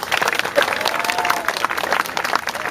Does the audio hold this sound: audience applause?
yes